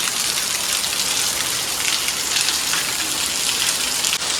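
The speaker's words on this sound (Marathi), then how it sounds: "पावसाची एकदम दमदार हजेरी लागलेली आहे" Heavy early-morning monsoon rain in the Konkan pours down in a dense, steady hiss of drops on surfaces, loud and continuous with no voices.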